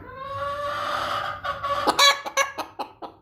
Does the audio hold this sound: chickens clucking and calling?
yes